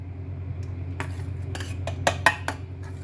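Utensil clinks and scrapes against a bowl while chopped onion is stirred into a gourd and cucumber raita, a handful of sharp metallic taps standing out clearly over a steady low background hum.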